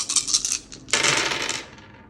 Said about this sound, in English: rolls the dice